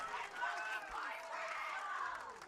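Esports arena crowd roaring and cheering after a clutch play in an Americas Playoffs match, a dense, sustained wash of many voices that stays loud and steady throughout.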